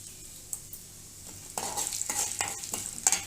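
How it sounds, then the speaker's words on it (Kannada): Chana dal and urad dal frying in a pan, a soft sizzle that grows louder as the lentils are stirred, with scraping strokes and close, crackling spatters toward the end. "ಸ್ವಲ್ಪ ಫ್ರೈ ಆಗಲಿ."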